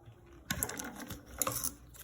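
A sewing machine stitches fabric for a baby document case in two short, fast bursts of rattling needle clatter, close and fairly quiet, separated by a brief pause.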